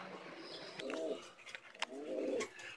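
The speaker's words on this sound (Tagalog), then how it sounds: "Mabagal pa ito yung mga ibon" Racing pigeons give two soft, low cooing calls close by, each a brief throaty burr, over faint background noise with a few light clicks and rustles.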